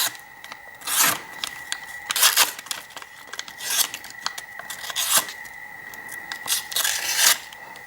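A serrated Benchmade Bugout folding knife, in Ranger Green, slices through paper in several separate rasping, scraping strokes spread across the clip. The strokes are close and fairly loud, with no voices.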